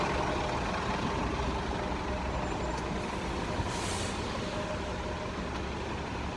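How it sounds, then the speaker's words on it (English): A city bus hisses as its air brakes release at a busy street stop, a short bright burst over constant traffic rumble with no talk. "Two buses coming."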